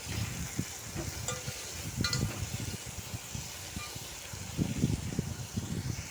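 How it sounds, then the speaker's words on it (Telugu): Spices and mutton fry in a pan for curry with a faint, continuous sizzle, overlaid by soft stirring and scraping sounds at close range. "అవన్నీ వేగిపోయిన తర్వాత చూడండి కొంచెం ఇంకా వేగాలండి"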